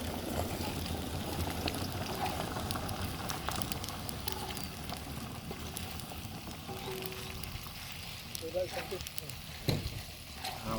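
Hoisin and spring onion sauce stir-fried in a pan for Chinese-style street food, a steady close sizzle lasting throughout with scraping stirs and a few sharper knocks near the end.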